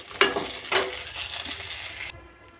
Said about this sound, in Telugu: ఈ పచ్చిమిర్చి అయితే ఇలాగా ఫ్రై కావాలి.